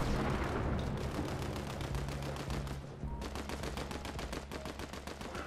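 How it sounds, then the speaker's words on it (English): Rapid gunfire rattles in a Fortnite match, dense repeated shots in quick automatic bursts over a rumbling background, with a short break before another steady volley. "I'm being shot by AI."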